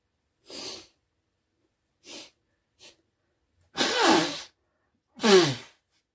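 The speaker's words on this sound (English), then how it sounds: "Just blow my nose and sob." Several short nasal bursts, ending in two loud, forceful blows like someone clearing their nose into a tissue, with quiet gaps between.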